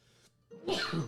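A single sneeze, quiet at first and then a sharp louder burst, heard alone in a quiet room during a tabletop role-playing session.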